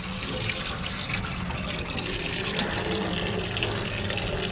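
Water drains steadily from the tank of an M923 5-ton military truck, a continuous close rushing splash with no pauses and no talking.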